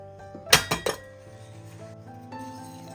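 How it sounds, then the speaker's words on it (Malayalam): A pressure cooker lid is opened after the steam has been released, producing three quick, bright metallic clinks up close, then a low, quiet hum. "ഇനി നമുക്ക് ആവിയെല്ലാം പോയതിന് ശേഷം ഒന്ന് തുറന്നു നോക്കാം."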